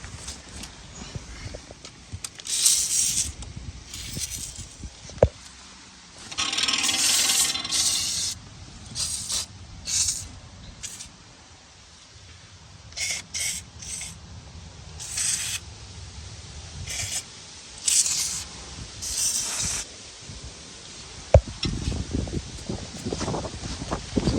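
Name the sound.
spraying penetrant lubricant onto bolts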